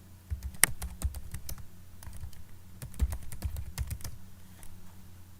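Keys clatter on a computer keyboard as a folder name is typed, a quick irregular run of close, crisp clicks with short pauses between bursts.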